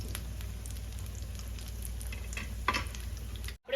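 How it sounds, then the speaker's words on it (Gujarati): Batata vada, potato fritters, frying in oil over a low flame: a steady, even sizzle and crackle holds throughout at a soft, close level, with no talking. "આપણા બધા બટેકા વડા આપણે તેલમાં હવે તળી લઈએ."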